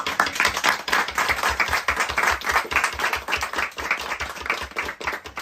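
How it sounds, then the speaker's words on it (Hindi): An audience at a business talk claps to welcome a guest on stage, a strong, fairly rhythmic burst of many hands beating together, steady and loud throughout with no talk over it. "तो जोरदार तालियों से स्वागत करेंगे पूनम जी का।"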